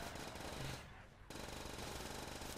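Rapid automatic gunfire from a new gun in a custom Zombies map game, dense and loud, briefly cutting out for a moment before the rattling bursts resume.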